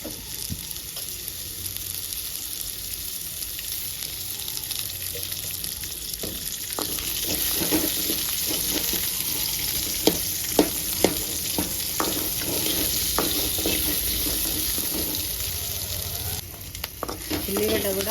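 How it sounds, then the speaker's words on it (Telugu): Thick onion pieces frying in hot oil for a mango roti pachadi give a constant loud sizzle, broken by occasional sharp pops and crackles and light stirring scrapes, with faint talk in the background. "ముక్కలు ముక్కలుగా కట్ చేసుకొని లావు లావు ముక్కలుగా ఫ్రై చేసుకోవాలి."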